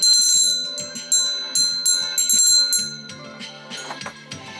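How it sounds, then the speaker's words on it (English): A metal hand bell from an unboxing at a history museum in Indiana, rung repeatedly in sharp bright strikes with ringing decay, loud and close, the later strokes faster and softer. "let's ring the bell."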